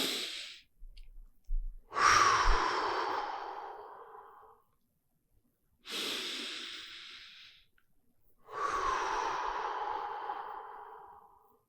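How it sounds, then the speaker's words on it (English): Slow, deep breaths drawn in through the nose and let out through the mouth, three long airy exhales with quiet pauses between, close and fairly loud, no talking. "taking slow, deep breaths from your nose and exhaling from your mouth"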